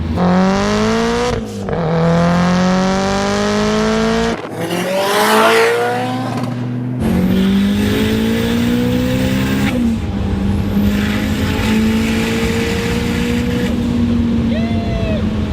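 Engine of a Toyota Celica GT-Four revving hard while driving, rising through the gears with sharp shift breaks, loud and close, a voice talking over it.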